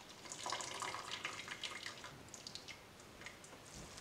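Salted pasta water pours out of a pot into a sink in a home kitchen, a quiet splashing trickle with soft drips that eases off toward the end.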